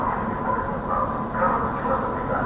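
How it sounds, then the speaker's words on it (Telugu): A passenger train hauled by a WDG9 locomotive approaches, its loud steady rumble and wheel noise rolling on without a break, close and undisturbed by talk. "మన ట్రైన్ అయితే వస్తుంది డబ్ల్యూహెచ్జి నైన్ లోకోమోటివ్"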